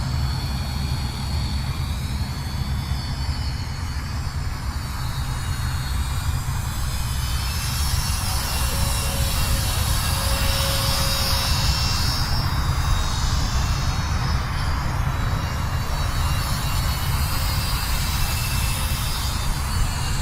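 A Flyzone Fokker Dr1 triplane RC model's electric motor and propeller run at full throttle, a loud, steady high-pitched whine with a droning buzz that holds for about twenty seconds without a break, no voices.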